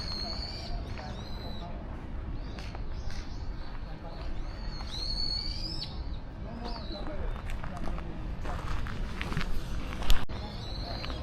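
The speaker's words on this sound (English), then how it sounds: "That sounds like a bird of prey to me." A bird of prey calls in repeated high, sharp cries over a busy outdoor crowd in a castle courtyard with food trucks, people talking and footsteps throughout.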